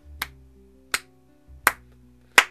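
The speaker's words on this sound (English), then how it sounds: "That's me clapping for the creator of the game." Four separate hand claps, evenly spaced and sharp, ring out alone against a faint low background hum from a visual novel game, with no talking.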